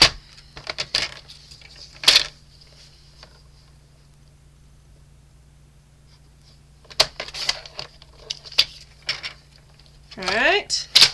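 Designer series paper for a handmade card trimmed down to size on a paper trimmer, heard as a few short sliding cuts and clicks in bursts separated by quiet gaps.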